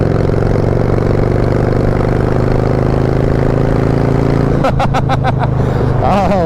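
A Harley-Davidson Sportster motorcycle with grass burner exhaust and a large cone air breather idles loud and close in a steady lumpy rumble, with a few sharp throttle blips near the end.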